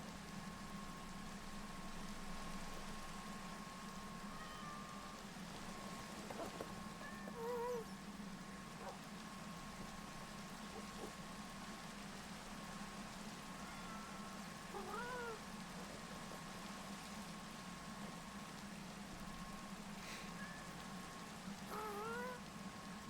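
Cats in the video game Minecraft give several short, high meows spread across a long stretch, soft and somewhat distant over a constant low hum and background hiss.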